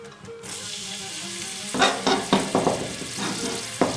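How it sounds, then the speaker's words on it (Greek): Chopped onion and garlic hit hot olive oil in a pot with a sudden loud burst of sizzling, followed by crackling spatters and brief stirring scrapes over a steady fry. "Αφού κάψει το λάδι μας, ρίχνουμε μέσα το κρεμμύδι."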